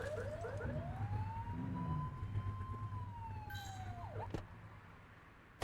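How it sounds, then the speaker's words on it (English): A police car siren in a video game wails in one long rising and falling sweep, loud and close over a steady low engine hum, before cutting off near the end. "Get on that tail and flip the siren."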